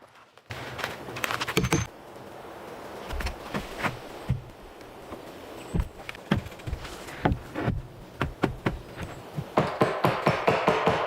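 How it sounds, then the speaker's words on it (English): Repeated hammer blows driving nails into a wooden cabin wall frame, irregular at first then a quick run of strikes toward the end, close and sharp, outdoors in the wilderness. "secured it firmly using a hammer and nails"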